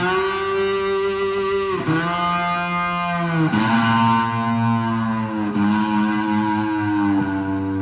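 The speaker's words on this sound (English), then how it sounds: "Notice the glass slide has more of a, I guess, mid-range. It's not so bright." Three-string cigar box guitar played with a glass slide through heavy distortion, sustained notes sliding between pitches with a thick, mid-range tone, loud and continuous with no talk.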